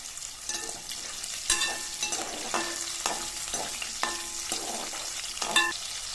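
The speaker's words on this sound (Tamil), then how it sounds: "இப்போ வெங்காயத்தை வந்து நல்லா வதக்கி விட்டுக்கலாம்" Small onions are stir-fried in a pan, with a steady sizzle broken by repeated scraping and knocking strokes of a spatula every second or so, close and fairly quiet, with no talk.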